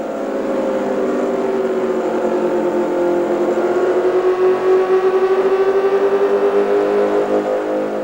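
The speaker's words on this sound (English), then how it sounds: "Garner was back at the wheel of a Formula One car, and time stood still." A Formula One car from around 2000 drives past with its engine note held steady, a strong sustained whine that rises slightly in pitch, loud and close, with no talking.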